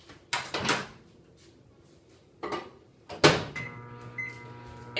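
A microwave oven door is opened and shut with firm clunks and latch clicks, three distinct bursts, followed by beeps and the hum of the microwave starting up.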